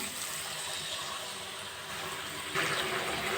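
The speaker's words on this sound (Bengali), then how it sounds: "এবার পরিমাণ মতো জল দিয়ে দেব ছোট এক বাটি জল দিয়ে দিলাম" A small bowl of water is poured into a pot of browned cucumber and potato curry, making a steady close splashing gush that grows louder near the end.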